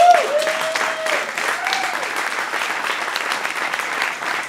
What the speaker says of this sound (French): Alors, vos applaudissements sont pour les deux opposants, n'est-ce pas?